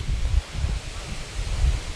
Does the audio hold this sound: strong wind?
yes